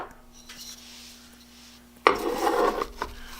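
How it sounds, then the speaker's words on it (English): A metal file rasping across the face of a carpenter's auger bit held in a sharpening jig: a faint low hum gives way to a short, loud, gritty scrape near the end, no talk. "to allow me to run this file past the face of the auger"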